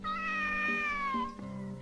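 A cat meows in a long, drawn-out tone that slowly falls in pitch, close and fairly loud, followed by a short second call, in a Hindi cartoon scene.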